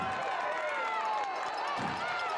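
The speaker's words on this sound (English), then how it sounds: "Crowd making noise late in this third quarter." Football stadium crowd noise late in the third quarter of a Towson vs Villanova college game, a steady roar under a commentator's voice.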